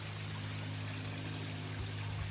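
Backyard pond waterfall running steadily with its filter on in early spring, a continuous close rush and trickle of falling water with a low steady hum underneath.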